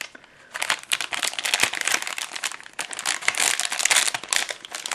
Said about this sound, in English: So let's crack open some boosters.